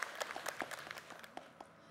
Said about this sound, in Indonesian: Tepuk tangan dong untuk Ibu Suryana